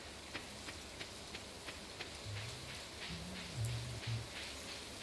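Steady rain falling in the Stardew Valley video game, a soft even hiss with faint regular ticks, under a low quiet tonal hum with no talking.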